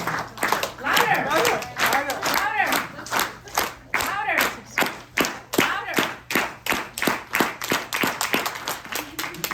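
A group of people claps together in a room at an accessibility camp, a steady run of sharp, loud claps that starts ragged and settles into a regular rhythm, with voices audible underneath.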